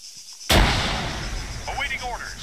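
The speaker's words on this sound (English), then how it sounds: "Grenade gone over." Grenade explosion in the military shooter ARMA 3 bursts as one sudden loud boom that rolls off into a long decaying rumble, with faint radio-style voice chatter audible near the end.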